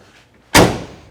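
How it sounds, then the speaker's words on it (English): A solid thump as the door of a 1970 Dodge Charger swings shut, one loud close impact that dies away over a brief resonant tail, with quiet room tone before it. "Door shut real nice, real good solid thump there."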